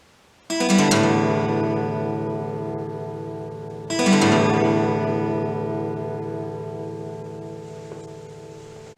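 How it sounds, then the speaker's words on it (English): Two strummed chords on a Fender FA-125 acoustic guitar with six metal strings, each ringing out bright and full then slowly decaying, played alone and close with no talking. "And this is the sound of the Fender."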